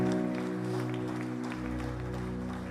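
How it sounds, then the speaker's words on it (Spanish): Congregation applauding during a church service, with sustained clapping under a steady backdrop of held musical tones. "Dale un fuerte aplauso al Rey."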